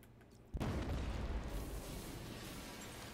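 Video game explosions in Batman: Arkham Knight: after a quiet moment a loud, deep boom erupts, followed by a sustained rumbling roar of blasts and debris that slowly tapers off.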